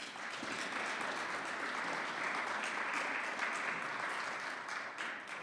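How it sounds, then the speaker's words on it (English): A school student government audience gives a steady round of applause, many hands clapping evenly for about five seconds, heard from some distance and fairly soft, with no speech over it. "So let's give another round of applause real quick."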